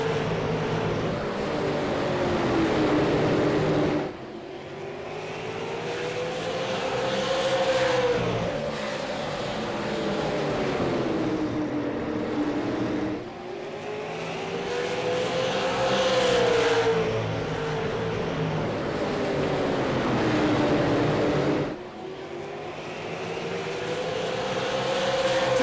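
Super late model race cars lapping at New Smyrna, engines swelling loud as the pack roars past, then dropping sharply before building again in repeated waves, with a rising and falling engine whine and no voices.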